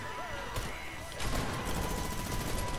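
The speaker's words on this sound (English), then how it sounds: "he's shooting Midas" Bursts of gunfire from Fortnite gameplay, scattered shots at first then a dense louder volley of rapid fire, with game sounds in the background.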